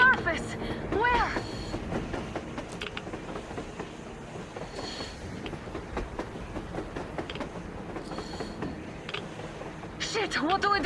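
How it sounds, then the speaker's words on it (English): A train rolls past on the surface in Metro Exodus, a steady rumble with faint rhythmic clatter running under agitated speech throughout, swelling slightly louder near the start and end. "A train! A damn train on the surface!"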